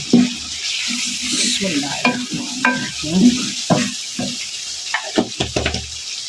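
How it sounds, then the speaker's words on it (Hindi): A spoon stirring potato and peas curry in a pan, irregular scraping and knocking strokes over a steady wet sizzle, close and fairly loud, growing choppier toward the end. "फिर हम ज़रा सा चमचा हिलाएंगे"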